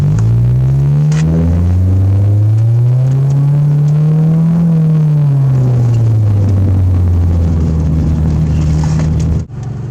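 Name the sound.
car engine revving in sport mode, mufflers removed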